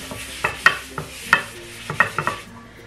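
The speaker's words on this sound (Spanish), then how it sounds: "Voy a colocar apenas una gotita aquí de aceite. Con una servilleta lo voy a esparcir por toda la sartén." A napkin spreads a drop of oil across a frying pan, making soft scraping and wiping strokes with a faint sizzle and light clinks beneath, close and irregular.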